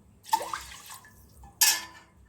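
Drinking water is poured from a glass into a pot for chocolate rice pudding, two short splashing pours with a brief gap between them, close and fairly loud.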